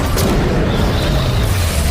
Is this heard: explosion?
yes